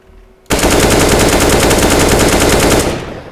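Rapid full-auto spray from an AK rifle against a wall in CS:GO, a loud continuous burst of evenly spaced shots lasting about two and a half seconds after a quiet lead-in.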